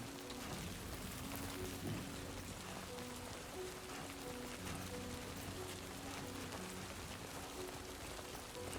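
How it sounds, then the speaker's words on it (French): Steady rain pattering on surfaces in the video game Death Stranding 2, a soft, continuous hiss of drops with faint tonal background music underneath, no talk. "elle est en train de se prendre toute la pluie quoi."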